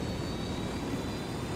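A helicopter in the Ghost Recon Wildlands video game gives a steady, dense engine and rotor roar that fills the whole moment without a break.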